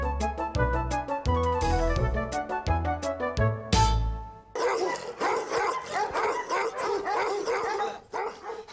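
Fierce Zizang Huang (Tibetan yellow) dogs kept in cages bark loudly and repeatedly at close range. Rapid overlapping barks run throughout, alongside some yips and whimpers, with a harsh metallic clatter in the first half.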